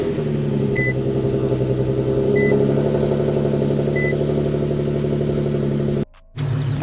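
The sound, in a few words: cold start of an Infiniti Q50 engine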